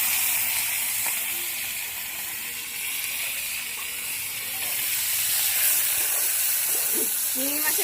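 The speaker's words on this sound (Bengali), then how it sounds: "তেলটা গরম হয়ে গেছে চিংড়ি মাছগুলো এবার ভেজে নেব" Prawns fry in hot white oil in a pan, a loud continuous sizzle and hiss that swells slightly partway through, with brief faint voices near the end.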